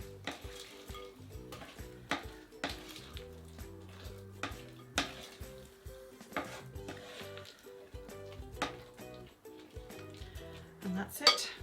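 Raspberry muffin batter being mixed in a bowl, with repeated clinks and scrapes of a utensil against the bowl in an irregular rhythm, close and fairly quiet.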